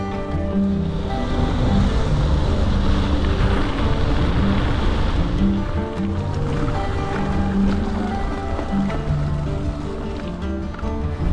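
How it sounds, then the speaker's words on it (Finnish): Strong wind roars across the microphone during a night mountain bike ride, a continuous loud rushing buffeting with no pauses, covering everything else. "Sen verran kyllä kova tuuli, että alkaa käymään korviin tää viima"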